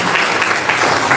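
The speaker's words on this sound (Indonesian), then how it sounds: "tepuk tangan dulu yang meriah ya" Enthusiastic applause fills a hall at a political talk event in Indonesia, dense and steady clapping from a large audience close by, with no voices standing out.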